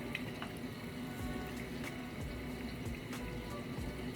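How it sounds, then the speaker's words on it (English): A bathroom tap runs steadily into a sink as water is used to wet the face, making a continuous close rushing splash with no one speaking. "make sure the water is a good temperature"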